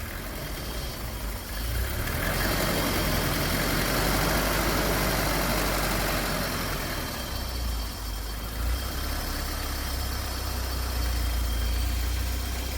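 A BMW E30 engine cranks and catches, then settles into a steady, rough idle that holds throughout, a continuous low rumble close by with no talking.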